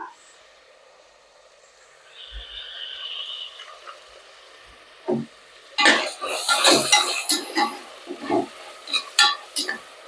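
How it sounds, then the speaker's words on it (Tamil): Dried and green chillies, onions and tomatoes are sautéed with salt in a pan. A quiet start gives way to a run of close metallic clinks and scraping stirs. "இப்போ பாருங்க வெங்காயம் தக்காளி எல்லாம் நல்லா வதங்கிருச்சு"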